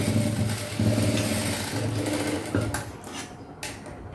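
A sewing machine stitching a blouse runs in a steady, fast, close mechanical hum with rhythmic needle clatter, then winds down into softer handling noises and a brief click.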